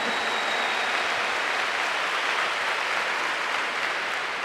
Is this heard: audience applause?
yes